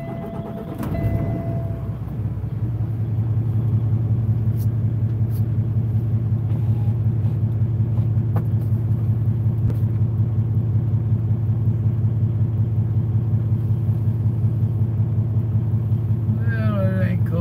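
A pickup truck's engine rumbles steadily up close on a cooling evening, a low, even drone holding for the whole stretch after a brief rise at the start.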